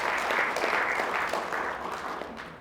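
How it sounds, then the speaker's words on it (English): A conference audience at an indigenous linguistics gathering in Miri, Sarawak gives a short round of applause, dense clapping that gradually tapers off. "give him a big applause"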